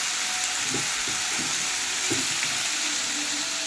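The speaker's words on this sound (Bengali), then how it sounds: "এবার ভালো করে এটাকে কাঁচা লঙ্কাগুলো ভাজা ভাজা করে নেবো" Green chillies fry with potato and pumpkin in a wok for a potato-pumpkin curry, a constant loud sizzle with occasional soft stirring knocks close by.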